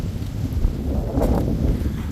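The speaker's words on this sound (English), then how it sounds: "It's super windy today" Strong wind blows steadily outdoors at a home remodel site, a continuous low roaring rumble across the microphone with a brief brighter gust in the middle.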